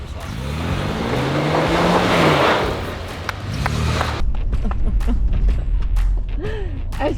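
A car engine roars loudly while driving, swelling and easing over the first four seconds, then a rougher, lower rumble takes over as people talk briefly over it.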